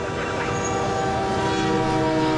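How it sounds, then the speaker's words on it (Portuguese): A train whistle sounds near Luz Station in São Paulo as a steady, loud, layered tone with several sustained pitches held over rumbling rail noise for the whole stretch. "O apito do trem é um aviso de que logo, logo muitos compradores vão desembarcar na Estação da Luz"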